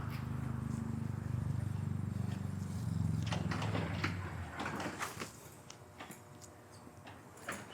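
An old door in an abandoned shopping mall operating, a steady low mechanical hum that gives way to a series of sharp knocks and clattering thuds, close and fairly loud.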